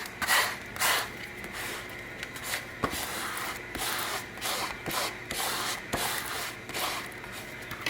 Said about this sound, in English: you just take your scraper and scrape it on